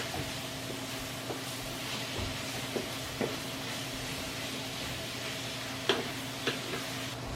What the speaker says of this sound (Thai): หมูเราก็จะมาผัดอย่างนี้นะคะเนี่ย ผัด